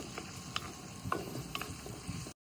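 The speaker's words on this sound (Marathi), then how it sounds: "आता छान असा लाल ब्राऊन कलर येपर्यंत परतून घ्यायचं" Peanuts roasting in a pan, a faint low sizzle with soft rattling and scraping as they are stirred, a few light clicks, ending abruptly.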